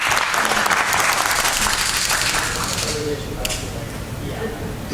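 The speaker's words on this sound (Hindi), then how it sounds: "तालियों से स्वागत कीजिए अलका जी का" An audience at a Hindi Day 2022 gathering in Houston applauds a speaker, a loud, dense burst of clapping that gradually thins and fades, with voices emerging beneath it toward the end.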